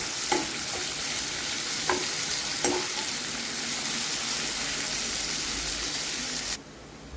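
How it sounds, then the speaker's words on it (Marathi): Onions fry with salt in a pan, a bright steady sizzle with a few soft stirring taps, cutting off abruptly near the end. "आपला हा कांदा चांगला भाजला गेलेला आहे"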